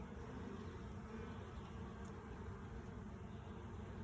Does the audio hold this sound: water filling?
no